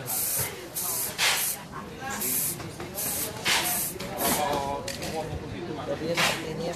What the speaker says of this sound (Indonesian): ini candy tune tadi yang 1 kali semprot ya, diulang kembali 1 lapis lagi ya supaya bisa lebih rata